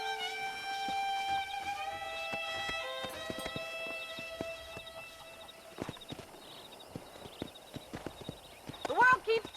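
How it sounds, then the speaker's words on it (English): Horses clip-clopping in Red Dead Redemption running on the Xenia Canary emulator, a run of hoof beats with an occasional whinny over western game ambience and music, with a voice talking partway through. "Let's see if we can't wrangle some horses."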